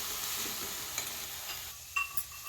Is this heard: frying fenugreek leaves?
yes